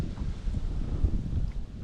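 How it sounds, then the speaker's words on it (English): Gusty wind rumbles across a small Tracker fishing boat near bluegill spawning beds, a steady low buffeting roar with a few sharper thumps, close and fairly loud. "This frickin' wind."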